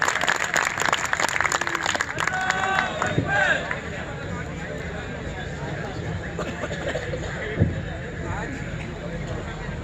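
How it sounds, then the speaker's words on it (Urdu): Applause from an audience at a debate on democracy in Pakistan, broad and dense at first, then thinning out over the following seconds. "آپ لوگ تالیاں بجا دیں گے تو میرے بھائی کا حوصلہ بڑھ جائے گا"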